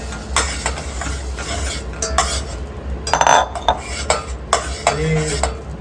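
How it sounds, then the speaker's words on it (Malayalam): Tomato frying in butter in a pan for butter paneer masala, with a soft sizzle beneath repeated close clinks and scrapes of a utensil stirring in irregular bursts. "ബട്ടർ ചൂടാക്കിയ ശേഷം വന്നിട്ട് നമ്മൾ തക്കാളി ഇടണം. ഇത് നല്ലവണ്ണം വന്നിട്ട് ഫ്രൈ ആവണം."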